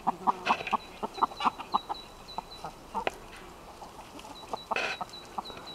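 Hens clucking in short bursts close by in a henhouse in the Algarve, Portugal, a steady scattering of clucks with brief pauses and a sharper squawk near the end.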